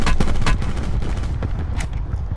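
Rapid bursts of gunfire from the Call of Duty Black Ops 4 Blackout battle royale mode, a quick volley of close shots at the start followed by scattered fainter reports over a steady game background.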